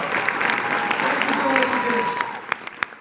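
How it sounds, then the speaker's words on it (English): An audience applauds an award winner named Gabby Flores at a teen awards ceremony; steady clapping runs throughout with a voice speaking over it, and a few sharp louder claps stand out near the end. "Big round of applause for Gabby"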